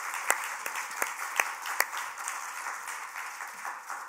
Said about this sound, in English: So a round of applause for them for that too.